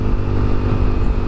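A Yamaha NMAX motor scooter engine runs close by with a steady, rumbling drone, loud and continuous with slight wavering, heard alone without talk.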